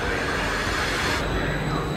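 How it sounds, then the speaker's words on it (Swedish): Steady rumble inside a moving train, a continuous loud broadband roar with rail noise and no pauses, heard from on board. "Då är vi ännu på tåget."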